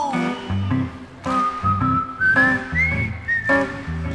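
Whistled melody from a live 1970 outdoor concert performance of a folk-pop song at Tanglewood, a clear sustained tune gliding between notes over guitar and a steady backing rhythm.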